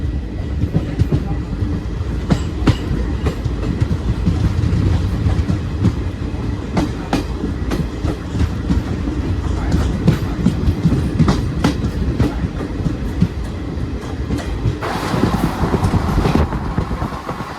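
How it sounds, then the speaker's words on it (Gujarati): A passenger train, heard from inside a general coach on the Junagadh to Kukavav line, runs at normal speed with a steady loud rumble and repeated clickety-clack wheel beats over rail joints throughout. "અત્યારે આપણી ટ્રેન નોર્મલ સ્પીડ ઉપર છે"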